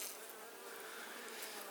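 Honey bees fly in and out of a hive in a wintry Australian setting, giving a steady, dense buzzing drone close to the microphone with no talk.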